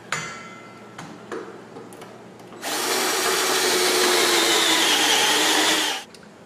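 A power drill spins a step drill bit through metal, boring holes for an Iron Rock Off Road rock slider on a Jeep WJ; one loud, steady drilling run lasts several seconds after quieter shop noise.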